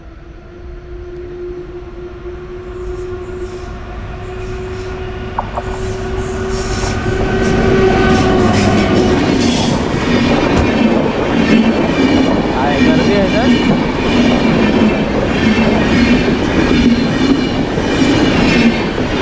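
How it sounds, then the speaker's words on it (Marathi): Tutari Express pulling into Chiplun station before dawn, a sustained horn tone giving way to loud rumbling wheels and rattling carriages as the train draws close, with a voice speaking briefly at the platform. "एक्सप्रेस आलेली आहे आता चिपळूणला."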